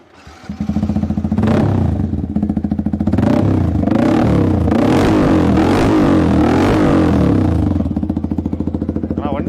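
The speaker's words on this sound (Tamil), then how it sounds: "ப்ரோ பைக்கோட எக்ஸாஸ்ட் சவுண்டு கேட்டுடலாமா?" Yamaha R15 V3 motorcycle with an aftermarket exhaust, fitted with an R1M-style body kit, revved close up: a loud burbling idle punctuated by several sharp throttle blips that rise and fall over about nine seconds.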